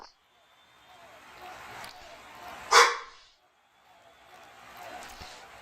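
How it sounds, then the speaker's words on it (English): A dog barks once, fairly loud, in the background during a nighttime baseball broadcast watch party, with quieter room sound before and after the bark. "Sorry about the mighty Thor barking in the background."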